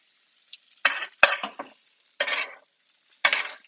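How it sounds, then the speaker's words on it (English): Butter spooned over fish in a hot frying pan: repeated bursts of crackling sizzle with spoon scrapes and a few clinks, close up and without talk. "now we're butter bathing"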